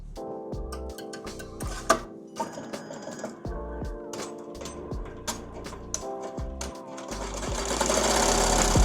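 An embroidery machine stitches a design onto a kids shirt, its needle hammering in a fast, steady mechanical rhythm with clicks and brief pauses between runs, close and loud, with a rising whir toward the end.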